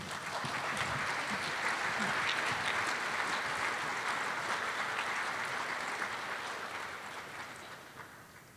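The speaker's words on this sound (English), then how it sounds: "And an applause, please." Symposium audience applauding panelists as they take their seats, a broad, continuous hiss of many hands clapping from a large crowd, steady for most of its length before gradually fading.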